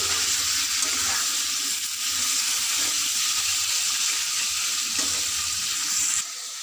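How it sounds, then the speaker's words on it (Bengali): Chicken pieces for chicken kosha sizzle steadily in hot oil, a dense continuous frying hiss with occasional stirring scrapes, close and fairly loud, ending abruptly. "এই যে মাংসটা তেলের মধ্যে কষা হচ্ছে"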